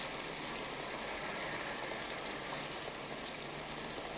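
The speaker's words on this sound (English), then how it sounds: "It's raining pretty hard." Heavy rain pours down steadily and loudly, a dense, unbroken hiss with no voices over it.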